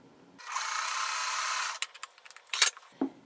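A sewing machine stitches quilt fabric for mini flying geese blocks in a quick run of about a second and a half, a steady whirring buzz, followed by a few short clicks and handling rustles, with no talk.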